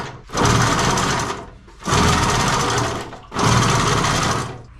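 An old rusty Motobécane AG2 moped engine is cranked three times without starting, each attempt a loud rapid mechanical chattering burst of about a second and a half, separated by short pauses.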